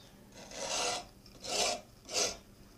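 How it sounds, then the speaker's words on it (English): A pattern maker's rasp works down a wooden foundry pattern in three slow, scratchy strokes that rise and fade, close and quiet with no talking. "Lee Nielsen Pattern Maker's rasp here. Just kind of work it down."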